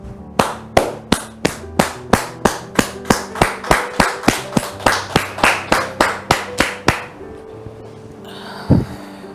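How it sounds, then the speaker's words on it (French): Evenly spaced, loud claps ring out one at a time in a regular rhythm, about twenty-five in a row, to greet a guest on a television studio set, then stop, followed by a brief knock. "acclamations et des applaudissements bien nourris."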